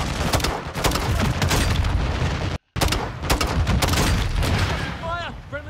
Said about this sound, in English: Got a grenade launcher!